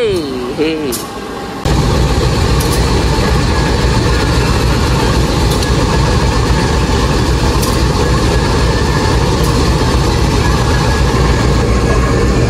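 An Indonesian Pasundan passenger train with modified New Generation economy coaches runs steadily with a loud continuous rumble and mechanical drone, faint rhythmic clunks along the track; a brief voice at the start.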